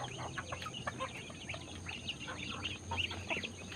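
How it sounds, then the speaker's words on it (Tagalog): Chickens clucking and ducks quacking together in a busy farmyard chorus, steady and close, with a faint constant hum in the background. "mga alaga nating pato at manok."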